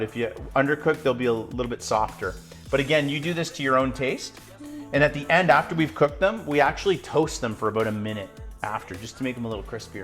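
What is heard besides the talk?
No everyday noises stand out.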